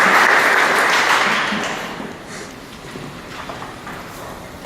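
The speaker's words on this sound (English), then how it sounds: "Let's give them a round of applause." A church congregation claps for the youths at a service, a dense burst of applause that starts loud and gradually thins and fades over a few seconds.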